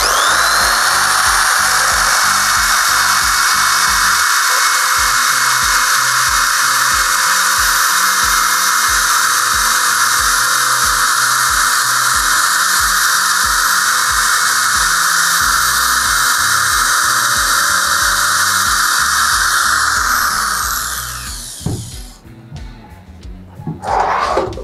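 Die grinder with a sanding flap wheel smoothing the rough edge of a drilled hole, a loud high-pitched steady whine with slight load changes, winding down and stopping near the end.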